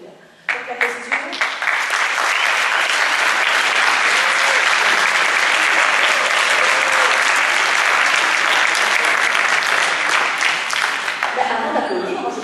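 Assembly audience at a 2012 constituent assembly meeting bursts into loud, sustained applause after a vote result, dense clapping filling the hall for about twelve seconds before tapering off.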